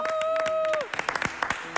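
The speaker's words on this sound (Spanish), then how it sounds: "Con un fuerte, sí, aplauso." Farewell applause for a musician in a radio studio, a short burst of clapping after a sustained tone fades, scattered claps trailing off into a quiet room.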